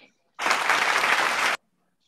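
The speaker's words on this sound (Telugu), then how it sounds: "నీకు క్లాప్స్ కావాలా" Children burst into a short round of clapping, a dense burst of claps lasting just over a second, loud and close, then ending abruptly into quiet.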